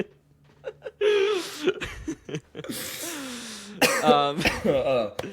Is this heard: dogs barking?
no